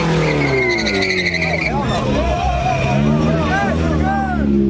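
Car drifting at a large street car meet, tires squealing in wavering, pitch-bending screeches over a steady loud engine roar, with crowd voices talking and shouting throughout.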